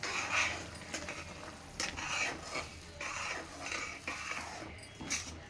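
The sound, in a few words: adding oats to a pan for oats upma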